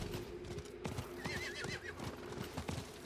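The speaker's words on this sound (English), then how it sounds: "Oh, ride the horse." A horse whinnies once in Diablo IV while mounted and moving. Its rising, wavering call sits over a steady, rhythmic clip-clop of hooves thudding close by on the ground.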